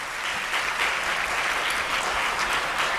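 An audience claps steadily at a business conference event, a dense wash of many hands keeping up a constant level for a few seconds, with no speech over it.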